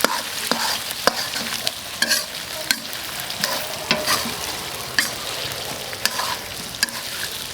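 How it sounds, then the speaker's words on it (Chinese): Duck pieces coated in soybean and broad bean paste sizzle loudly in a wok, with a spatula scraping and clacking against the metal in a steady stirring rhythm, close up and with no talking. "再给它炒起来"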